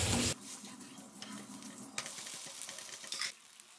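Poha and suji tikka frying in oil in a pan just after being flipped, a loud burst of sizzle at first that settles into a softer, continuous crackle with a few brief flare-ups.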